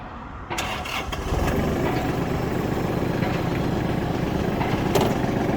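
A Hinomoto NX220 tractor engine cranks briefly and catches, settling into a steady, loud, close idle with a rhythmic mechanical chug and no voices over it.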